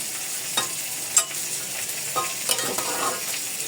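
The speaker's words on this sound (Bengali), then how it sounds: "এখন ভালোভাবে নেড়ে চেড়ে ঢাকা দিয়ে রাখবো কিছুক্ষণ" Kalmi (water spinach) greens with salt and turmeric stirred in a hot pan, a steady soft sizzle with a few scraping spatula strokes rising above it, close and alone with no voices.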